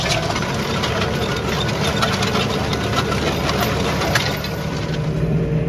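A T7 tractor engine idles with a steady, loud, close mechanical rumble and knocking vibration, unbroken throughout and with no voices.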